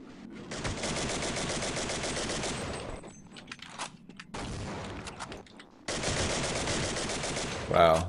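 Rapid automatic gunfire from the Arctic Incident shooter game comes in two long, dense bursts separated by a quieter stretch of scattered shots, loud and close throughout.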